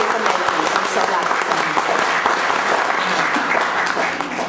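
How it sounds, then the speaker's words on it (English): Dense, steady applause from an audience at an Earth Day 2013 speech event in Queens, loud and continuous for the whole stretch with many hands clapping at once. "I ask for a huge round of applause"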